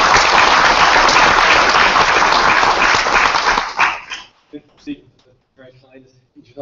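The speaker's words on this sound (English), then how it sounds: "a big round of applause for our final keynote" Loud sustained applause from a conference audience for about four seconds, welcoming a closing keynote, fading out as a single voice begins speaking.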